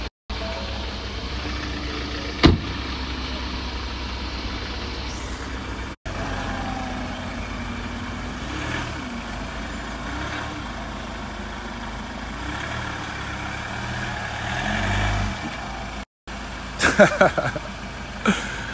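A car engine idles with a low, steady rumble close by, cutting out briefly twice, with a few sharp knocks and clatters near the end.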